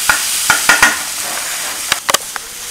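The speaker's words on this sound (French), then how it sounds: "on va passer au poivron. Donc voilà, sel, poivre, huile d'olive, on va laisser cuire ça un petit peu." Bell pepper frying in olive oil with salt and pepper makes a continuous close sizzle. Several sharp clacks of a utensil against the pan break in near the start and again toward the end, and no one speaks.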